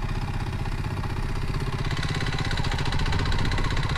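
Kawasaki W230 (Meguro S1) single-cylinder motorcycle engine running steadily nearby, a loud even rhythmic thumping idle with mechanical clatter.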